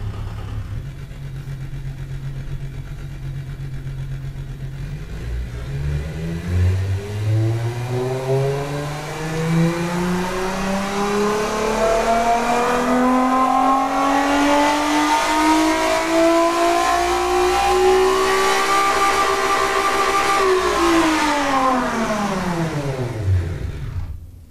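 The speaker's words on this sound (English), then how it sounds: "V6s in the current build are extremely loud even with mufflers." A simulated V6 sports coupe engine in the Automation car-building game idles low, then revs up in one long, loud sweep to a high, raspy pitch, holds there and drops back down, with no voices.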